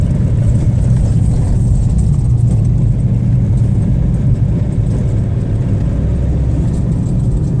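A Renault Kangoo drives along a badly potholed road, producing a loud, steady, close low rumble of engine and tyres throughout, with no voices.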